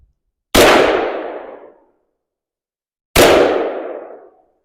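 A Yugoslav Zastava SKS rifle in 7.62x39 fires two sharp, loud shots about two and a half seconds apart at an outdoor range, each with a decaying echo.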